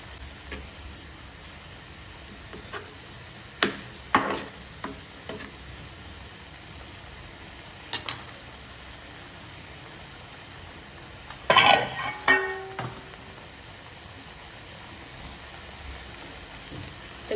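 Crumbled rotlo (millet flatbread) cooking in hot oil in a pan, Kathiyawadi dhaba style, with a faint steady sizzle broken by a few short scraping stirs and clinks, one louder burst of stirring near the middle.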